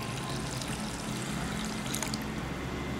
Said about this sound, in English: First add jaggery, into that add water